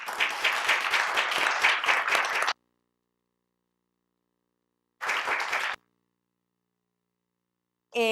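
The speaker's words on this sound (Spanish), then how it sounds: "yo les quiero pedir un aplauso para todos los que no están de este lado" An audience at a climate change seminar claps in two short bursts separated by silence, the first loud and lasting a couple of seconds, the second briefer.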